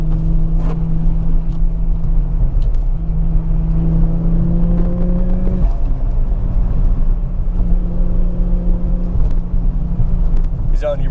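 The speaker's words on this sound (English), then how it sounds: "really hope the camera's picking up the wastegate noises from the interior" Turbocharged 1JZ-powered Lexus IS200 heard from inside the cabin while driving, with a steady droning engine hum rising and falling through gear changes and faint wastegate chatter, loud and continuous under people talking.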